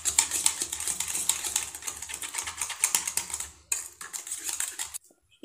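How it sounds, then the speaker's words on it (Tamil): A whisk beats eggs with chili powder and salt in a bowl, giving a fast, continuous metallic clicking and rattling against the sides that stops abruptly near the end. "இதை ஒரு விஸ்க் வச்சு நல்லா மிக்ஸ் பண்ணிக்கலாம்"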